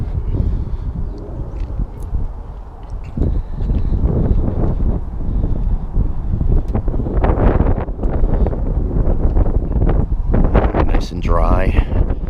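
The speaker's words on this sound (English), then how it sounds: "I apologize for the wind out here." Gusty outdoor wind buffets the microphone, producing loud low rumbling bursts that rise and fall throughout, with someone talking over it beside a car being dried.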